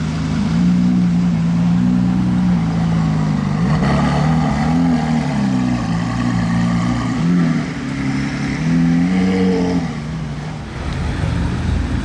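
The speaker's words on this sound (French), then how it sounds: "Et le départ de la SVJ à présent" An SVJ hypercar pulls away on a Monaco street, its engine a loud, close, continuous drone that rises and falls in pitch for about ten seconds before easing slightly.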